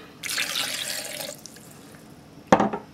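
Water poured into a blender with ginger, salt and vinegar for Thai sweet chili sauce, one close splashing pour lasting about a second, then quiet, and a brief sharp clink and splash at the end.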